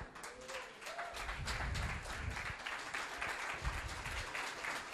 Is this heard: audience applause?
yes